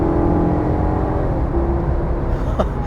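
Maserati Quattroporte S, 424 horsepower, running steadily with a continuous engine drone and whir from inside the car, with a brief rise in pitch near the end.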